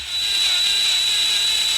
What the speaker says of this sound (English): Got my drill going, ready to go.